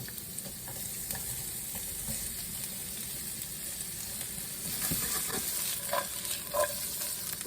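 Half an onion frying in hot olive oil in a pan, a steady broadband sizzle running throughout with occasional spatters and stirring clinks, close and moderately loud, no voices.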